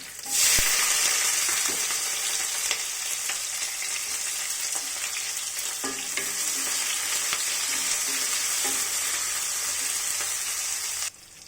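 Curry leaves, onion and green chilli pieces fry in hot tempering oil for an eggplant fry, a loud, steady sizzle with occasional stirring scrapes, continuous throughout with no talking.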